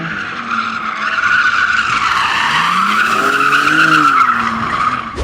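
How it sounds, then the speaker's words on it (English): A BMW M3 Touring drifting lets out a long, loud, sustained tire squeal that wavers in pitch as the rear slides, with engine drone underneath and no voices. "See, the Touring will be driftable, no problem at all."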